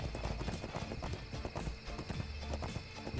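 Horse hooves clip-clop steadily in the ArcheAge video game, a dense rhythmic clatter of several horses that stays loud and continuous with game ambience layered underneath.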